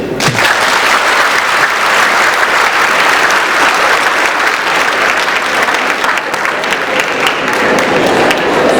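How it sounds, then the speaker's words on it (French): A large audience applauds at a Senegalese lycée ceremony in Saint-Louis, steady dense clapping filling the whole stretch, loud and close, with faint voices underneath. "Applaudissez-les."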